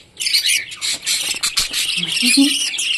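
Pet budgerigars squawk and chirp up close in quick, busy bursts of shrill calls, with a few lower chirps toward the end.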